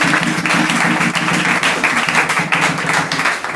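A church congregation applauds in a sustained, dense burst of many hands clapping, steady and loud throughout, with faint voices mixed beneath.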